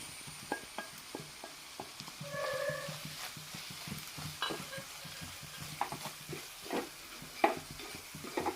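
Prawns drop into sizzling masala in a pan for a prawn biryani, a steady close frying hiss with stirring scrapes and small clatters running throughout.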